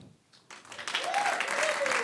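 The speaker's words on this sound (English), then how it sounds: "Wow, you all clapped the hardest for the sponsors." An audience starts applauding for the sponsors at a music awards livestream, the clapping swelling quickly into sustained applause with cheers and whoops riding over it.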